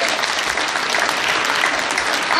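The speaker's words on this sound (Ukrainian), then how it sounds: "Я прошу овації." Audience applause at a choir's 20th anniversary concert, a dense, steady wash of many hands clapping continuously at close range for the full length.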